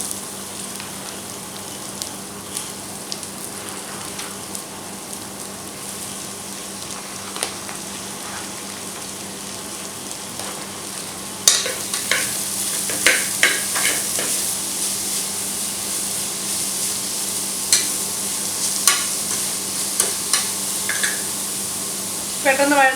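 About four medium onions, finely chopped, fry in a pan for an egg roast with a continuous close sizzle; from midway, repeated scraping and stirring clatters sound over the frying.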